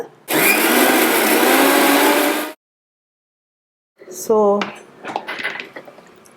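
A mixer grinder whirs loudly for about two seconds as it blends leaves with a little water into juice, then stops abruptly; after a pause come clinks and knocks of the jar and lid being handled.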